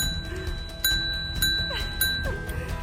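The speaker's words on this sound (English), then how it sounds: "got his bell working" A bicycle bell rings a few bright dings during an outdoor ride near Skagen, Denmark, over steady background noise from the moving bikes.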